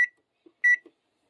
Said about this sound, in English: I'm going to set a timer for like 30 minutes